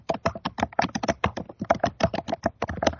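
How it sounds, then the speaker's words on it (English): Rapid typing on a computer keyboard in a closed-door testimony room, a steady stream of close, crisp key clicks with uneven rhythm and no talking. "Yeah, someone's typing."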